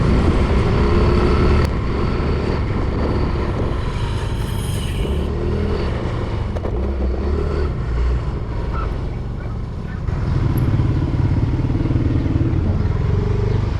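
A motorcycle engine drones steadily and loudly throughout, with traffic rumble and occasional clatter around it.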